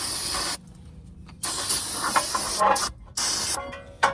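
An aerosol spray cleaner is sprayed onto a 2019 Honda Accord Touring front brake during a pad replacement, several bursts of loud, broad hissing spray, short presses separated by brief pauses, close by.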